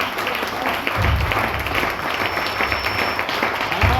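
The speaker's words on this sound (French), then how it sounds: "On acclame pour le Seigneur." A church congregation claps and applauds together, a loud, dense, sustained wash of clapping from a large crowd that swells after a quieter opening and carries on steadily.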